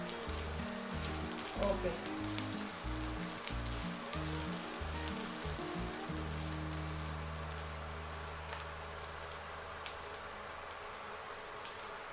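Onions frying for mutton hariyali hiss in a pan with a steady, soft sizzle, joined by faint stirring scrapes, while a voice speaks briefly under it.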